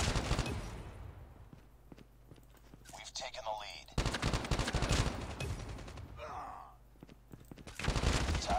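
Gunfire from the mobile shooter Call of Duty: Mobile, with bursts of automatic fire in several loud clusters separated by quieter stretches, mixed with game effects and people talking over the action.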